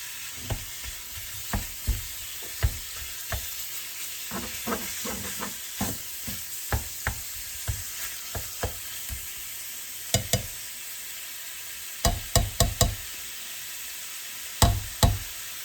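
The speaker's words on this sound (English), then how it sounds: "cook my meat over here in this pan. And this is the ground beef and pork mixture" Ground beef and pork mixture frying in a pan, a steady sizzle under repeated sharp knocks and scrapes of a utensil stirring the meat, no talking.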